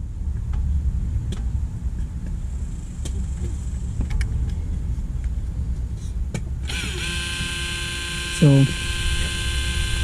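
Electric rear brake caliper motor on a Civic Type R whirs and changes pitch partway through, with a brief hiss near the end, heard close up under a workshop background with a spoken word.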